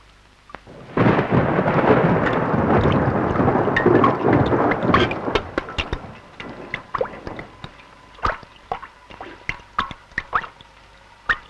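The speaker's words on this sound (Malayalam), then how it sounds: "മഴ തോരുന്ന ലക്ഷണേ ഇല്ല." Heavy monsoon rain drums loudly on a leaky house, with a long rolling rumble of thunder early on, then scattered sharp drips and splashes into pots and pans as the downpour thins; no one speaks.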